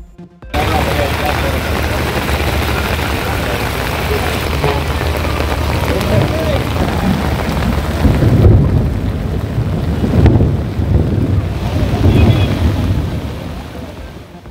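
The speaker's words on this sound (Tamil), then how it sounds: "வெளுத்து வாங்கிய மழையால் குளமாக மாறிய புதிய பேருந்து நிலையம்" Heavy rain falls at a new bus stand in Villupuram that has flooded into a pool, a loud, continuous wash of rain with occasional stronger surges and low rumbles.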